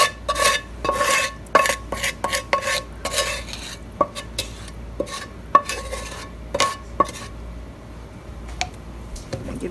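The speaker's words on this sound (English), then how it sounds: "Give this a nice stir." A spoon stirs a full pot of crockpot minestrone soup with cooked meat, giving a series of close scraping clinks and knocks against the pot in an uneven rhythm, with no talking.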